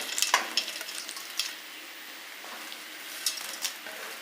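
Soft scraping and rustling of a spatula stirring puffed rice with fried potato in a pan, with light clicks and a faint sizzle, close and quiet.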